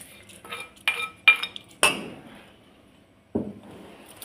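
A spoon clinks and scrapes against a bowl while curd rice is mixed, a few sharp metallic taps close by followed by softer scraping, then quiet.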